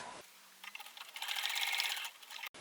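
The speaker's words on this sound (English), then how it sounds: "I am going to sew across the top." A sewing machine stitches across the top edge of a reversible tote bag, a short close run of rapid mechanical chatter that starts after a quiet pause and stops abruptly.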